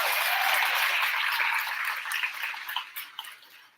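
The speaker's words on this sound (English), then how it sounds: "Can you give Samuel a giant round of applause?" A school assembly audience gives a big round of applause, dense clapping that starts loud and full, then thins out and fades into scattered claps toward the end.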